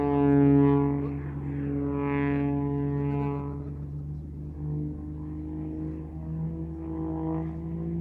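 An Extra aerobatic plane flies a freestyle program at the RAF Cosford air show, its piston engine droning in a steady harmonic roar that swells loudest early, then shifts and eases slightly as the plane rolls and climbs.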